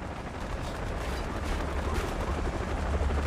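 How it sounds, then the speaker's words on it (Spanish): A helicopter in the video game Far Cry 3 sends out a loud, steady rotor rumble, thick and continuous with rough pulsing, heard alone without speech. "Creo que es otro helicóptero, ¿no?"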